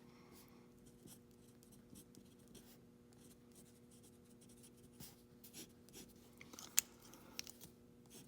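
A fountain pen with a medium nib writes on paper, giving faint close scratchy strokes over a quiet hum, with a few sharper ticks near the end.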